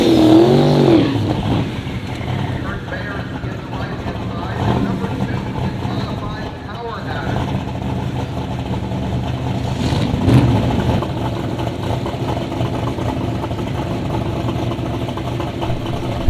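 Gasser drag race car at Byron Dragway, a loud steady engine roar with revving swells and a high whine near the start, heard over a continuous crowd and track ambience with a commentator talking throughout.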